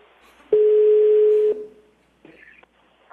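A telephone dial tone sounds as a call is placed, a steady, clean one-second tone that cuts off abruptly, followed by a short pause and faint clicking line noise.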